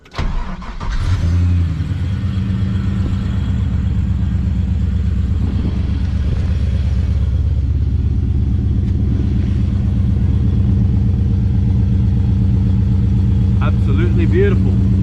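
A warm 4WD engine starts, then idles and revs steadily with a deep, continuous rumble close by for about fifteen seconds, and a voice briefly speaks near the end.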